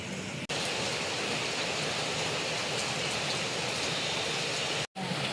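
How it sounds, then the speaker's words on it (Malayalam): Light drizzle falls outside with a cold wind on a rainy evening, a steady, even hiss that fills the whole stretch, broken only by two brief dropouts. "പുറത്ത് തണുത്ത കാറ്റടിക്കുന്നുണ്ട്, ചാറ്റൽ മഴയുണ്ട് കേട്ടോ."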